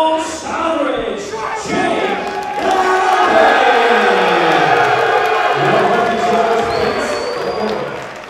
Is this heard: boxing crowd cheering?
yes